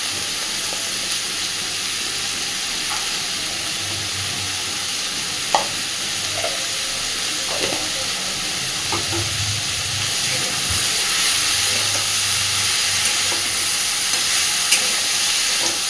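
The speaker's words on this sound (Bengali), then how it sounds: "গ্যাসের ফ্লেমটাকে মিডিয়ামে রেখে একটু সময় নিয়ে সবজিগুলোকে ভেজে নেবে" Vegetables with turmeric fry in a pan over a medium gas flame, a steady close sizzle and hiss with occasional stirring clicks and scrapes, growing slightly louder partway through.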